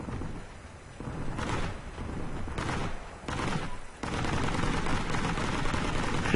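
Gunfire in the World War II shooter Heroes & Generals, a dense rumbling barrage of game shots and explosions with a few distinct bursts, close and sustained throughout.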